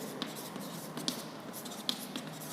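Lecturer writing on a classroom board during a physics lesson, with a few faint chalk-like taps and scratches spaced irregularly over a low, steady room hum.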